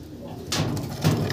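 A male fancy pigeon coos in low, soft rumbling bursts close by, the calls swelling twice over a steady hum, with faint voices in the background.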